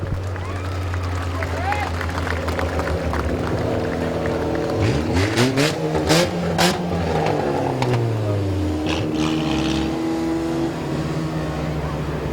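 Race car engines roar and rev at Midvale dirt track speedway, with pitch sweeping as cars accelerate past, loud and close, while an announcer talks over the PA throughout.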